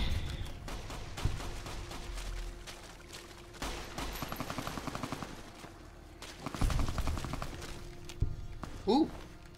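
Automatic and single gunshots in Fallout New Vegas during the Honest Hearts fight, rapid machine-gun-like bursts and scattered loud cracks over continuous combat noise, with voices talking over the action.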